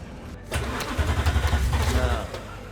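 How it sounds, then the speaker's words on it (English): Car engine starting in Cyberpunk 2077: a sudden crank and catch, then a throbbing, pulsing idle that rumbles low and close for about two seconds. "all of a sudden, boom, boom, boom, my car starts"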